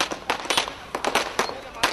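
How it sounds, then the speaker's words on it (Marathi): Firecrackers and fireworks burst in a celebration at Dasara Chowk in Kolhapur, a rapid, uneven run of loud sharp cracks and pops with voices mixed in. "दसरा चौकात फटाक्यांची आतषबाजी करण्यात आली"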